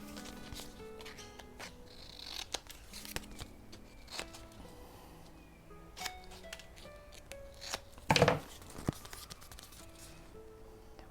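Scissors snip through a fussy-cut paper image for a junk journal tag, with scattered close crisp cuts and paper rustling, plus a sharper burst of handling noise near the end.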